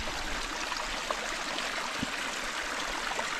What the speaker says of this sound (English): That's the beginning of the Colorado River.